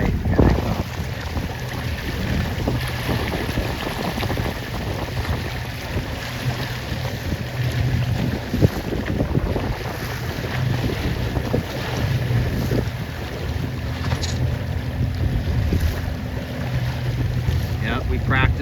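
29er sailboats racing past at a US Open regatta, with steady wind buffeting the microphone, hull and water rush, and waves washing throughout, a continuous loud outdoor roar with no clear breaks.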